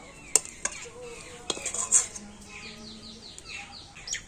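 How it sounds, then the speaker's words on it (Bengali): A sesame and jaggery mixture is scraped out onto a ghee-greased plate, with a few sharp metallic clinks and scrapes of utensil against plate close by and light chirping in the background. "এখন আমি তিল আর গুড়ের মিশ্রণটা নিয়ে সে থালার মধ্যে দিয়ে দিচ্ছি"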